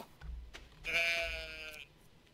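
In the farming game Stardew Valley, a goat or sheep gives one drawn-out, wavering bleat lasting about a second, with soft game sounds around it and no talk.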